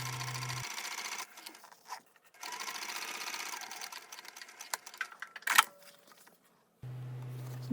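A sewing machine top stitches above a zipper on a crossbody bag, running in steady bursts with short pauses and handling clicks between runs, fairly close and alone with no talking.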